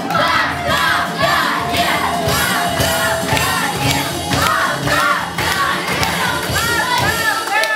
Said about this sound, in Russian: Аплодисменты для нашего именинника и сказали дружно ему «Поздравляем!»